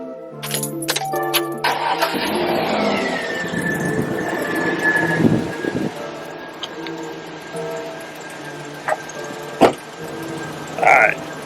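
Chevrolet Silverado pickup starting up: a brief key jingle, then the engine cranks and catches, settling into a steady idle with a thin whine, plus a few clicks and knocks near the end.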